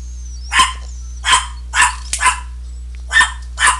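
Dog barking in sharp, separate woofs, about six barks spaced roughly half a second apart with a quick double bark in the middle, loud and close over a steady low hum.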